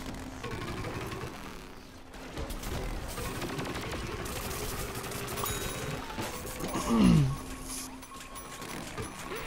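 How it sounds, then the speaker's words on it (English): Rapid gunfire rattles through a Plants vs. Zombies Garden Warfare 2 match, a steady stream of shots and mechanical clatter at moderate distance, with one louder whooshing burst near the end. "We have to shoot up as they shoot down."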